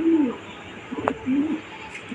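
Two low, soft pigeon coos close by, separated by a brief sharp click, with quiet background hum.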